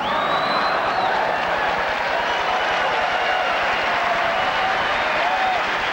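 Audience applause at a motivational talk, a dense, steady wash of many hands clapping at close range, sustained evenly throughout with faint crowd voices mixed in.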